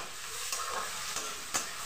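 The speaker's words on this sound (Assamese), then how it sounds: "আৰু এনেদৰে ভালদৰে বাদামী ৰং হোৱালৈকে ভাজিলোঁ।" Onions with ginger-garlic paste frying in a pan give a dense, even sizzle with a few soft stirring scrapes, close and steady, no talk.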